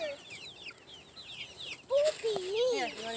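Chickens on a homestead cluck near a chicken tractor while scratch feed is tossed to them. Soft, scattered clucks are followed by louder, drawn-out calls, and a voice is faintly audible in the background.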